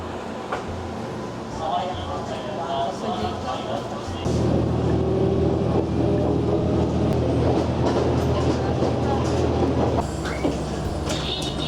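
A Japanese metro or suburban train rumbles and rattles loudly at close range, swelling midway into a steady roar with faint squeals, while a voice speaks over the noise.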